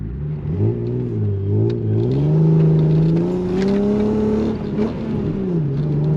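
An Alfa Romeo GTV6 3.0 V6 engine revs up and holds a deep, raspy roar, pitch rising and falling as the throttle is worked, loud and close with no talking.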